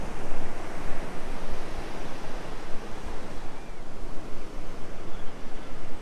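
Small waves rolling onto the shore at Myrtle Beach, South Carolina, a loud, continuous wash of surf with gentle surges and some wind, with no voices.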